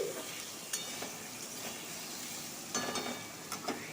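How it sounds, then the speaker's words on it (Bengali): Potatoes sauté in oil in a pan, a soft steady sizzle broken by several scraping stir strokes and light utensil taps, close but fairly quiet, with no one speaking. "আলুটাকে ভালো করে কষিয়ে নিচ্ছি"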